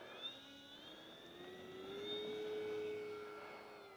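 An FMS P-47 1500mm radio-controlled warbird takes off in a snowstorm with one notch of flaps, its electric motor whining in a steady high tone that rises and swells as the plane accelerates and climbs away, with wind noise underneath.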